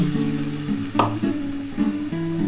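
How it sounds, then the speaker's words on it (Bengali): Spice water is poured into a pan of frying spice paste for a duck egg curry, giving a loud, steady sizzle with stirring scrapes throughout, close up. "এই মশলার জলটা দিয়ে দিচ্ছি"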